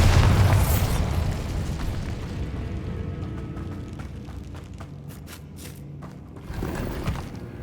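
A Bombarda spell detonates in Hogwarts Legacy, a loud booming explosion at the start that rolls into crackling debris and scattered pops, with light footsteps and a smaller thump near the end.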